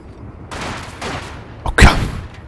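Gunfire in a Stalingrad war video game, bursts of rifle and machine-gun shots with heavy booming blasts near the end, loud and close over a rumbling battlefield background.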